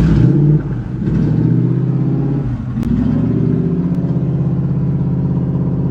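Toyota 1UZFE V8 engine starting for the first time and being revved: a loud, close engine that dips, then climbs through a rev before settling into a steady, rhythmic idle.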